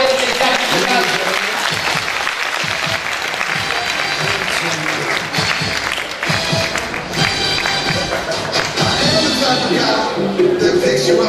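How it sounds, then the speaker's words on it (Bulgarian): A dense, sustained round of audience applause fills a hall at an anniversary celebration for a kindergarten in Bulgaria, loud and steady throughout with faint voices mixed in. "Аплодисменти за джентълмените и тяхните граждани."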